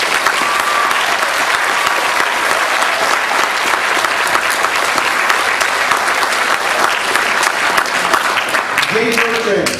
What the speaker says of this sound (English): I also want a final round of applause for our seniors.